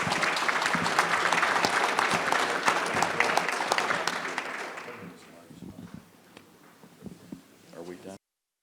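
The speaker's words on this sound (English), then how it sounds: "So let's give a big round of applause for our panelists." An audience gives sustained applause for conference panelists, loud and dense for about five seconds. It then thins out into scattered claps and room noise with faint talk.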